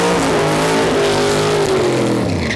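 A 2019 C7 Corvette nitrous drag car roars loud and close on its run, engine note climbing steadily through the gear as it pulls hard down the strip.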